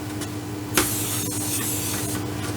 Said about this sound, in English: I'm just going to spray the corner here, the edge.